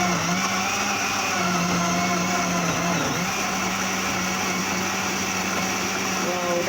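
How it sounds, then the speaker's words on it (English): A blender whirs steadily as it purees pineapple, apple, mango and ginger with water into juice, a constant high motor hum with a brief dip midway. "I'm going to turn my blender on"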